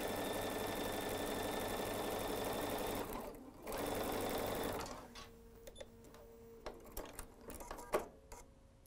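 A sewing machine stitches quilt pieces in a steady, loud close run that briefly dips and then stops, leaving soft handling clicks and taps.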